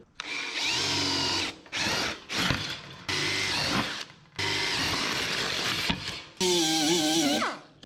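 A power drill with a new bit whirs in several bursts on a 1967 Toyota Stout body, spinning up and cutting off with short pauses between, close and loud, with the pitch dipping under load near the end.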